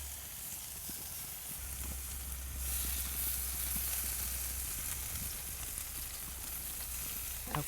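Korean BBQ-glazed kabobs sizzle steadily in a pan as the glaze caramelizes, a soft continuous frying hiss at close range with small crackles and no talking.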